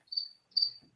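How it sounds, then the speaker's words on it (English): Crickets chirp in two short, high, bright bursts with a brief gap between them, against a quiet background. "Just crickets, dude."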